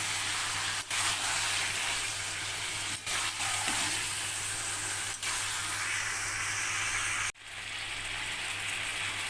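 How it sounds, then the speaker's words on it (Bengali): Mutton sautés with spices in a pot, a steady loud hiss with a few brief dips where stirring interrupts it and a sharp break near the end, heard close with no voices. "মাটনটা কষানো হচ্ছে"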